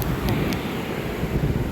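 Ocean waves wash in with wind buffeting the microphone on a beach, a dense rumbling roar that stays steady throughout.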